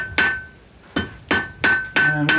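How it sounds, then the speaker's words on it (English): A blacksmith hammers hot metal to a point on an anvil with gentle blows: five sharp, ringing strikes at a steady rhythm, close and clear with no talk. "just hammering it on the anvil very gently"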